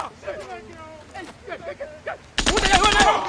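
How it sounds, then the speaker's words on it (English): A burst of rapid gunfire from the video game Deep Rock Galactic erupts loudly in the last second, after a stretch of someone talking. "the gunshot doesn't even sound real"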